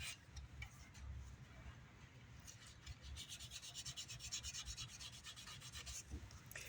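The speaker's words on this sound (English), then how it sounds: "kind of sanding in the blind here" Steady back-and-forth rasping of hand sanding the finish on a 1981 Gibson E2 Explorer guitar, soft and close, with rhythmic strokes that quicken toward the end.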